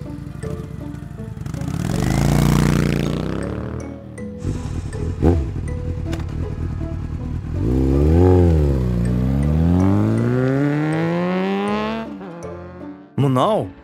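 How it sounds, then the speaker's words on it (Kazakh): A motorcycle engine revs up and down in loud, sweeping surges, dropping back between bursts before a final short rev at the end. "Ал бұл мотоцикл."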